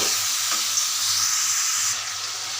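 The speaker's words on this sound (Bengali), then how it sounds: "এখন আমি খাসির মাংস দিয়ে দিচ্ছি তাহলে আমি মাংসটি ভালো করে এটার সাথে হালকা ভেজে নেব" Goat meat fries lightly with cinnamon and bay leaves in hot oil, a bright continuous sizzle with a faint stir early on, easing slightly toward the end; no one speaks.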